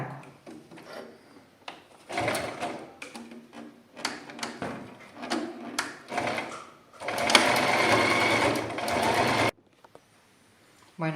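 A sewing machine stitching a slipper seam in short, uneven bursts of whirring, with clicks and handling noises between runs, ending in one longer, louder stretch before falling quiet.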